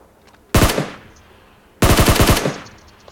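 A video game gun fires two loud, close bursts of rapid automatic fire, each lasting about half a second to a second, separated by a short gap.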